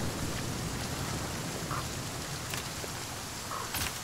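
Rain falls steadily in the video game The Flame in the Flood, a soft continuous hiss of drops with a few faint higher chirps, quiet and even, without talk.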